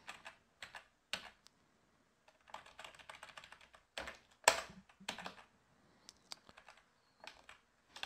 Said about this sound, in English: So if I type in the password.